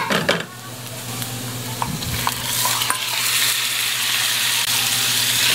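Ground chicken sizzles steadily in a pan with translucent onions, a spoon stirring and scraping through it in close, continuous frying.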